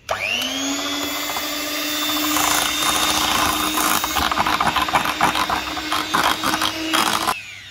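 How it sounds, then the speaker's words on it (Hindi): Electric mixer whipping cream for a Lotus dessert at slow speed, a steady motor whine running throughout with a rising rattle of beaters against the bowl toward the end. "अब हम बिल्कुल स्लो स्पीड में मिक्स करेंगे"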